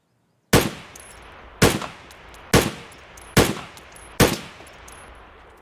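Five loud, sharp gunshots from Escape from Tarkov ring out about a second apart, each followed by a short echoing tail, with no voices over them.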